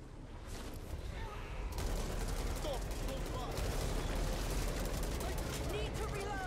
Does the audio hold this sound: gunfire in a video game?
yes